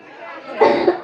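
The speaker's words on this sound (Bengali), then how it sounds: "আমার খুব কাশি হচ্ছে।" A patient in a doctor's consultation coughs twice, close and loud, in quick succession.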